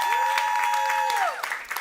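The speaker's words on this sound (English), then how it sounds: "Please give her a round of applause." An audience at a climate week panel on digital futures applauds a panelist, broad clapping running steadily under a sustained tone that slides away near the end.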